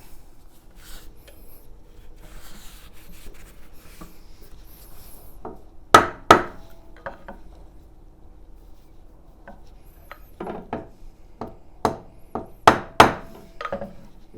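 A rocking chair's wooden back is struck to align it: sharp, close woody knocks, a pair early on, then a cluster of quicker irregular hits, separated by quiet handling and rubbing noises, with no talking.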